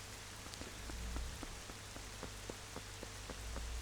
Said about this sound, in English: So it's looking like we've got to stop the rain at the very least.